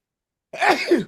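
A single sudden sneeze bursts out after a moment of silence, close and loud, with a breathy, noisy release.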